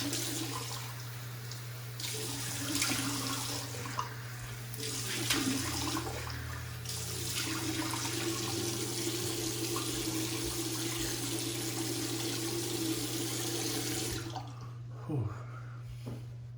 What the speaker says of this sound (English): let's wash off the face and we'll test the post shave.